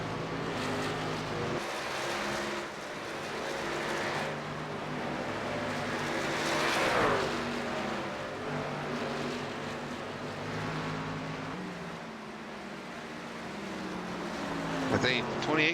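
Race trucks roar around the Canadian Tire Motorsports Park road course, engines droning and shifting pitch as they pass, with a rising whine near the end; a commentator talks over the steady engine noise.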